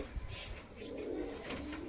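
Low, rolling coos from Giribaz pigeons kept in a loft swell and fade in a short run, close by and fairly quiet, with a faint chirp or two behind them.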